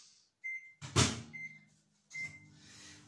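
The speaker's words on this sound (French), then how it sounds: "je vais le faire fondre de suite au micro-ondes" Microwave oven melting butter in a small ramekin, set under a kitchen worktop: a brief clunk of the door, then short bursts of a mechanical hum with a steady tone and a beep, close by with no talk.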